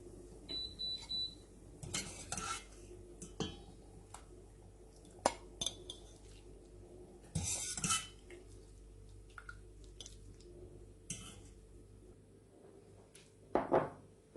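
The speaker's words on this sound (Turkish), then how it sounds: "Şimdi servis tabağımıza alabiliriz" Cooked manti lifted onto a serving plate, with scattered metal clinks of a utensil against a pot and plate, soft wet squishes and scraping between quiet gaps, close and fairly faint.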